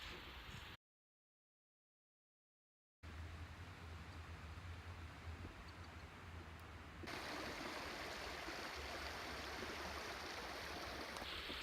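A small woodland creek runs just below a waterfall on a December trail, giving a steady soft rushing of water. It cuts out for about two seconds, then returns and grows slightly fuller toward the end.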